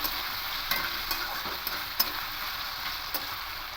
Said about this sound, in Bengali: নাড়াচাড়া করে একটু ভালো করে ভেজে নিয়েছি